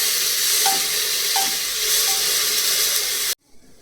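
Chopped onions sizzle and hiss steadily in hot oil in a pan while being fried reddish-brown for a vegetable biryani, with occasional stirring scrapes, close and continuous before cutting off abruptly.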